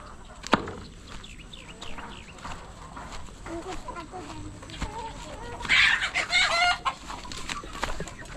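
Chickens clucking and calling at a farm pond, a burst of louder squawking midway, with people talking nearby.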